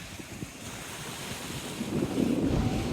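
Sea waves splash against the seafront near a pier at Teignmouth, a steady rushing wash that swells louder toward the end, mixed with wind buffeting the microphone.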